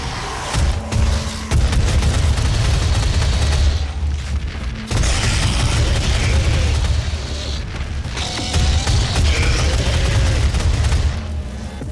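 Powerful BFG blasts and booming explosions in DOOM, loud and continuous with heavy low rumble, brief pauses between bursts around four and eight seconds.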